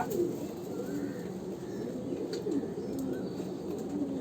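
Fantail pigeons coo in a steady, low, overlapping murmur close by, filling the whole stretch with soft rolling calls and no voices.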